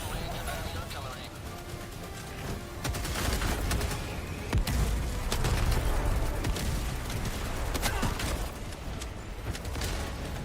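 Video game combat plays out as dense, continuous artillery, mortar and anti-aircraft fire: a steady rumble broken by sharp blasts and crackling bursts, with a voice speaking over it throughout.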